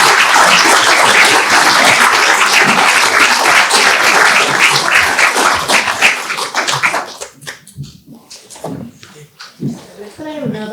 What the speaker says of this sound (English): Could I have another round of applause for our panel?